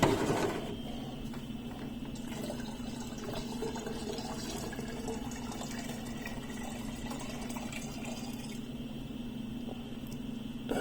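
Homemade hand sanitizer mixed with glycerin is poured into a container, giving a steady, faint liquid trickle and fill sound that runs continuously for about eleven seconds with no talk.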